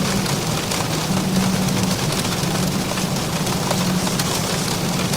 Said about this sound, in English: You can hear the aircraft getting pelted.